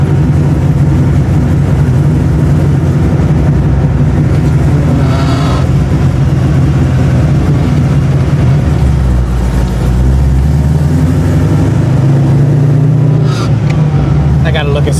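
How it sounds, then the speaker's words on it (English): A 1989 Ford Mustang notchback with a rebuilt carburetor is driven at low speed, and its engine gives a loud, steady low rumble heard from inside the car for the whole stretch. "So I'm gonna do real low speed driving, see how that goes."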